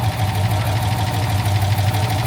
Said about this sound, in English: That's a proper smooth running engine,